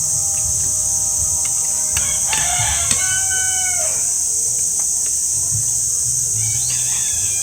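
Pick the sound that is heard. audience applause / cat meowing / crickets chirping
crickets chirping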